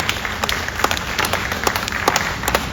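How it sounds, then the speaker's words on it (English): A small audience applauds a glass blower, with short bursts of scattered clapping heard up close for a few seconds. "Let's give her a big round of applause for that"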